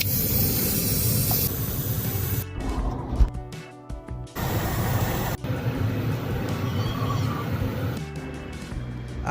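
An air freshener aerosol spray hisses inside a car interior in several bursts, some long and some short, separated by quiet gaps, close and fairly loud.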